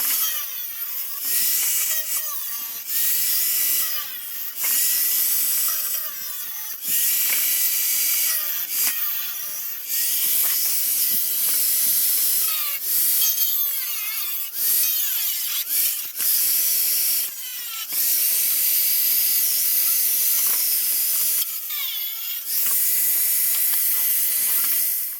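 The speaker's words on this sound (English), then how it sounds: "You just need to cut it with the angle cutter" An angle grinder cuts into the fender of a 1988 Toyota Hilux with a loud, harsh, high hissing screech. The cut runs in long bursts broken by short pauses.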